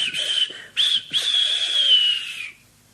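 A steam engine whistle sounds, a tank engine whistling impatiently: one short toot, a brief pause, then a long sustained shrill blast that fades out, loud and close.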